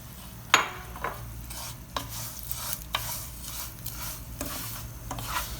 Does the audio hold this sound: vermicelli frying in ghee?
yes